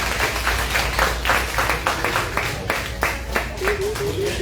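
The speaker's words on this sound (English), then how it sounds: "Let's give them a round of applause." A round of applause at a town hall meeting, a steady wash of many hands clapping at once that holds through the whole stretch, with no voices standing out above it.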